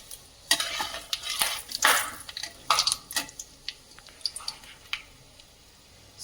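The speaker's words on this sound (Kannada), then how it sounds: "1 ಸ್ಪೂನಿನ ಸಹಾಯದಿಂದ ತಿರುಗಿಸ್ತಾ ಇರಬೇಕು" A spoon scrapes and stirs chana dal and urad dal in hot oil, the quick rhythmic strokes over a soft crackling sizzle, close and fairly loud, then thinning to scattered light taps.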